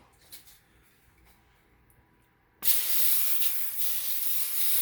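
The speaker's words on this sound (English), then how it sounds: "can you get the oil spray out of there? And just spray this pan really quick" Oil spray hisses onto a pan in a home kitchen while vegan wings are prepared, a sudden loud continuous burst that starts partway through after quiet handling sounds and holds steady to the end.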